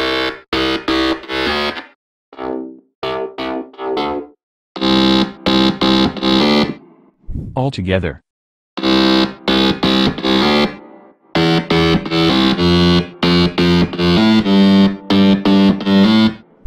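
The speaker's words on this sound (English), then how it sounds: "The drop bass consists of three different sounds." Layered electronic drop bass made in FL Studio, loud distorted buzzing synth stabs in choppy rhythmic bursts with gaps between phrases and a brief pitch-sweeping tone midway.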